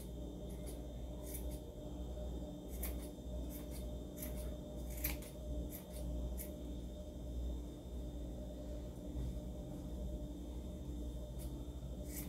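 Scissors snip yarn for a wool heart craft, a run of crisp, close cutting clicks arriving in irregular clusters over a low, steady background rumble, with no talking.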